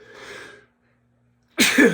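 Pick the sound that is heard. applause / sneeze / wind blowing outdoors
sneeze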